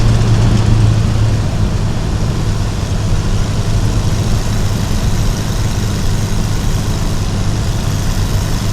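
A 1966 Karmann Ghia Cabriolet cruising at highway speed, its engine a steady low drone under constant road and wind roar, with no break or change in pitch throughout.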